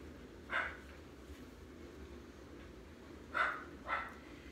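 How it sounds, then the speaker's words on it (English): A dog barks three times at a distance, one bark followed after a pause by two closer together, over quiet background hiss. "We got Stanley barking at nothing over there."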